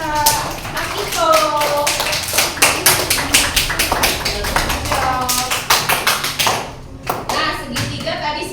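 A second-grade elementary class claps hands in a quick burst of uneven, close slaps, with children's voices and chatter mixed in.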